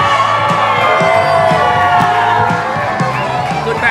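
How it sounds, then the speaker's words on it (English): A wrestling crowd roars and whoops in celebration of a pin victory, a loud, continuous wall of cheering and shouting with scattered rhythmic thuds, sustained throughout. "The fans cheer Patty's victory."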